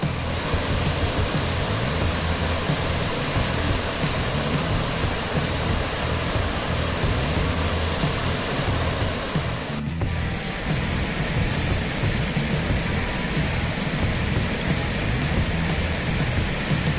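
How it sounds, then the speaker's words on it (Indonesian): A waterfall near the Suganing natural pool in Bangli roars steadily and loudly, a dense unbroken rush of water filling the whole scene without pause. "Dari sini sudah terdengar gemuruh airnya ya."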